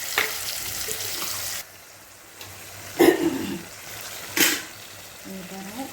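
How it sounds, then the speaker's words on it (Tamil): Tomatoes fry with salt and turmeric in a pan, giving a moderate sizzle that drops off partway through, with a few sharp clinks and stirring sounds after it. "இப்போ இந்த தக்காளி வதங்குறதுக்கு கொஞ்சம் உப்பு போட்டுக்கலாம்"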